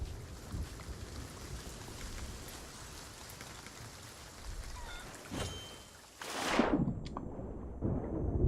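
Steady rain in the video game Sea of Thieves hisses softly, broken near the end by a sudden loud whooshing burst before the patter resumes.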